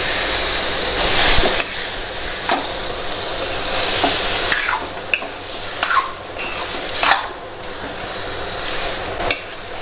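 Semolina and khoa being stirred in a kadhai for laddoos, with repeated scraping strokes and light clunks of the spoon against the pan over a soft frying hiss.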